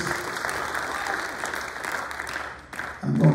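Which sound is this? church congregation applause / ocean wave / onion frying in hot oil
church congregation applause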